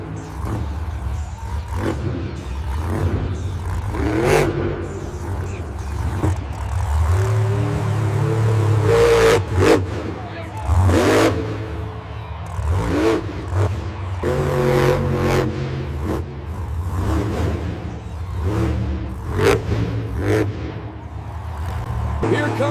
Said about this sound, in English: Here comes the truck building speed now.